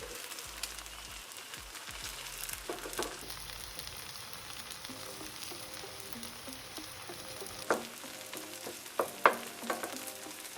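Eggs frying in a pan give a soft, continuous sizzle with faint crackles and a few sharper pops and clinks near the end, quiet and close.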